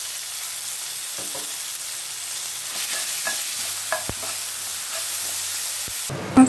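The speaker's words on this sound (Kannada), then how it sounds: "ಮಸಾಲೆನ ಹಾಕ್ಕೊಂಡು ಒಂದು ಸರಿ ನೀಟಾಗಿ ಫ್ರೈ ಮಾಡ್ಕೊಳ್ಳಿ." Ground masala paste frying in oil in a pan for a bottle gourd curry, a low steady sizzle with scraping stir strokes and a few utensil taps, ending in a brief louder clatter.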